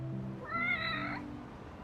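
A cat meows in the video game Lost Judgment, a single drawn-out, tonal call of about a second over steady background music, fairly close and clear.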